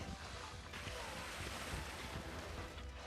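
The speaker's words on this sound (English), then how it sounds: "The water." Water waves in the Monster Hunter Rise video game wash and rush in a dense, steady surge, faint and continuous with windy noise throughout.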